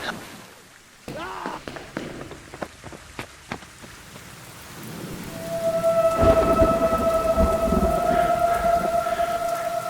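A rumble of thunder rises into heavy, steady rain, with scattered cracks early on and a sustained tone like a distant siren later.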